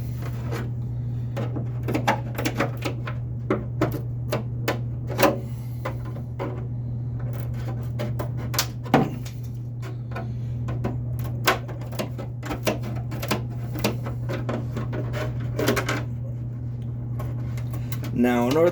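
Cutting out the body shell for a TRX4 RC truck produces a rapid series of close, sharp clicks and snips over a steady low hum, running irregularly for nearly twenty seconds.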